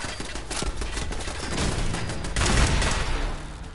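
Video game gunfire rattles in rapid, dense bursts throughout, with a heavier volley swelling toward the end, loud and close with no talking.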